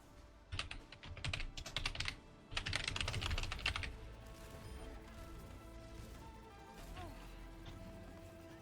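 Someone types on a computer keyboard during a casual gaming session, with two rapid bursts of close, clattering keystrokes in the first few seconds that then fade into quieter background noise.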